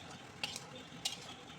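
Fried potatoes and chicken for a country-chicken curry are stirred in a pan, making two faint, quick spatula scrapes over a soft, low sizzle.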